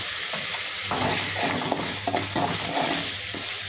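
Crushed cardamom, cinnamon and cloves fry in hot oil, giving a steady close sizzle broken by repeated stirring scrapes across the pan, with no talking.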